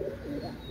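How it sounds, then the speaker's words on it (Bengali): Pet pigeons of a Pakistani Teddy breed pair coo in a low, continuous murmur, close and moderately loud, with no talking. "অসাধারণ কবুতর, যাদের ভালো লাগবে নেবেন।"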